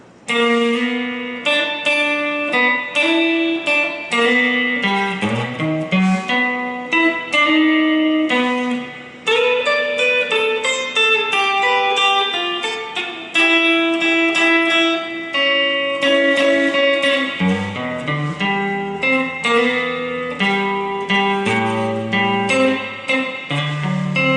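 An electric guitar plays a long, busy solo on a song with quick runs of notes and sustained bends, loud and continuous throughout.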